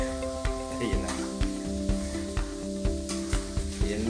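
Chicken sizzles and crackles frying in hot oil, with regular tapping of a utensil against a pan and a steady hum in the background.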